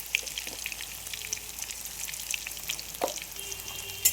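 Potato pieces frying in oil with turmeric and Kashmiri chili powder, a soft steady sizzle with scattered crackles and pops, quiet and close, no talking.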